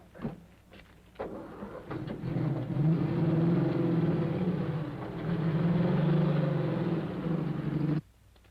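An old 1930s car driving slowly up a drive, its engine a steady low rumble that swells after a quiet start and cuts off abruptly near the end, with no talk.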